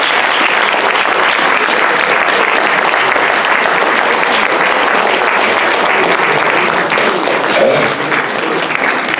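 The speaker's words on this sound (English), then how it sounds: "One more last round of applause" Sustained audience applause closing a talk and book event, a dense, loud, steady wash of many hands clapping that holds evenly for about nine seconds without breaks.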